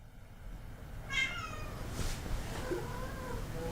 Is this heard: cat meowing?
yes